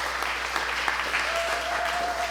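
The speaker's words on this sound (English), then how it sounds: "Everybody give a big round of applause." Audience applause at a film festival panel discussion, a steady wash of clapping from a modest crowd that holds evenly throughout, with a thin sustained tone running beneath it.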